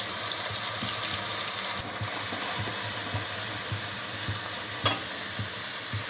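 Onion paste fries in oil for a chicken gravy curry, giving a loud, continuous sizzle with soft, repeated stirring thumps and one sharper knock near the end.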